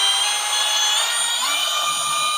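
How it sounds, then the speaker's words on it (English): Power drill boring a 3/16-inch weep hole into a plastic sump pump discharge pipe, a steady high-pitched whirring grind held close and loud for the whole stretch, with the pitch sagging slightly partway through as the bit angles. "So I usually start drilling it straight and then kind of go at an angle."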